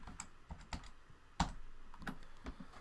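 Keys tapped on a computer keyboard while entering text, an irregular run of close, crisp clicks with one sharper, louder press midway and no talking.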